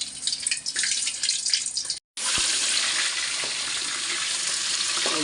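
Crab pieces and legs frying in hot oil, a dense steady sizzle and crackle heard up close. It cuts out briefly for a moment, then returns at an even, slightly louder level.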